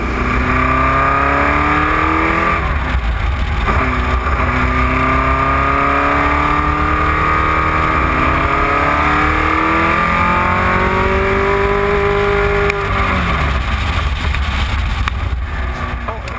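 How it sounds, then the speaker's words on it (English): A 1969 Porsche 908/2 race car climbs the Goodwood hill, its engine loud and close, revving hard through repeated rising sweeps with short drops at each gear change across the whole run. "this is the 1969 car that won the Targa Florio that year, and we're just about to go up the hill at Goodwood in it"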